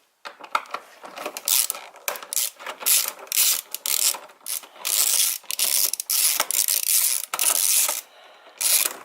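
A ratchet clicks in repeated bursts while a hose clamp is loosened on the intake tube of a Mustang EcoBoost, making close, loud metallic clicking with brief pauses between runs.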